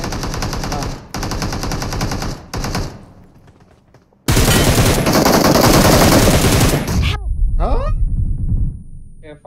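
Automatic gunfire in the video game PUBG Mobile comes in loud, rapid bursts. Two short volleys are followed by a longer sustained stretch of fire, and a voice is heard in places.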